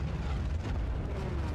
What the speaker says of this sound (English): F to throw grenades.